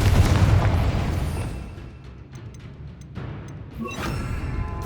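A Confringo blasting curse explodes in the Hogwarts Legacy video game, a heavy booming blast that rumbles and fades, then swells again, loud and without speech.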